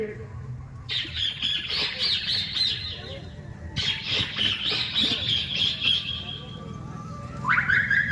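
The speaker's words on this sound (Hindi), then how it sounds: "कहीं चिड़िया आवाज दे रही है।" Small birds chirp and twitter in bright, busy bursts, fairly close, over a low rumbling background.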